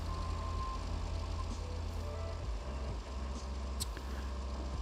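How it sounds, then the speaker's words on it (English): A heavy work truck in RoadCraft sounds repeated reversing beeps over a loud, constant engine drone, the steady beeping running throughout. "I have to listen to the beep beep beep, and that drives me madder than anything"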